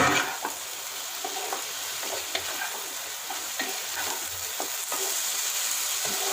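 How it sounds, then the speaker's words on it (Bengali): Fried pointed gourd (kakrol) sizzles steadily in a frying pan with spices for a shahi curry. A spatula scrapes and stirs repeatedly, close and continuous, with no voices. "ভালো করে নাড়াচাড়া করে এর মধ্যে ভেজে রাখা কাঁকরোলগুলো দিয়ে দেবো।"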